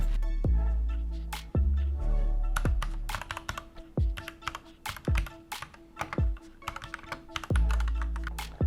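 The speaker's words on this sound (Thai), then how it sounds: "มาฟังเสียงเวลาพิมพ์กันบ้าง" Typing up close on a GK61XS wireless mechanical keyboard: a brisk, uneven run of clacky keystrokes with deeper thuds as keys bottom out, and no voices.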